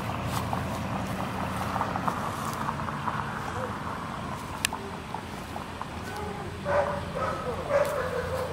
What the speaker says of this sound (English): Got a dog on the roof.